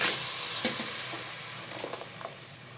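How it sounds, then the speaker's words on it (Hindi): A steady sizzle and hiss fills a hot pan as whisked yogurt and gram flour go in for kadhi pakora, with faint stirring clicks and scrapes over the continuous frying noise, no voices. "और अब हम इसमें ऐड करेंगे दही और बेसन जिसे हमने अच्छे से फेंट करके रखा हुआ था"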